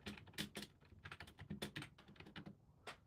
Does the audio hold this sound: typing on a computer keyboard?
yes